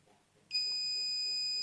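Multimeter continuity beep while testing the line and neutral of an electric immersion water heater's three-pin plug: a steady high-pitched electronic tone that starts abruptly and holds continuously, loud and close, with no talk.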